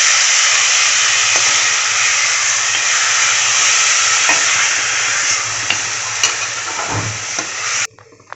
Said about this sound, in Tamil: கொத்துக்கறியை சேர்த்துக்கோங்க. நல்லா கலந்து வச்சுக்கோங்க.